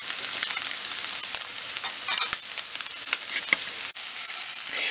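Egg burji, scrambled eggs, fries in a pan with a dense crackling sizzle, sharp pops and a few scraping stirs, close and steady, then a brief dip near the end.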